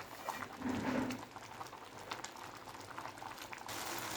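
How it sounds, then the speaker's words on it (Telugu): Red lentil khichdi boils steadily in a pot, a dense bubbling and simmering that stays even in loudness throughout. No one speaks over it. "చూడండి ఫ్రెండ్స్ ఎంత బాగా ఉడుకుతుందో"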